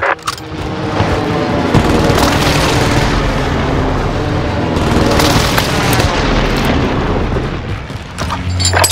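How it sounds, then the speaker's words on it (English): Precision airstrike explosions on Rebirth Island in Call of Duty Warzone: a loud, continuous barrage of deep booming blasts and rumble that hardly lets up. "Precision airstrike missed."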